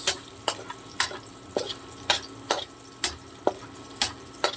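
Garlic and onion frying in a little oil, a constant sizzle broken by a steady run of sharp spatula strikes and stirs about twice a second, close and clear.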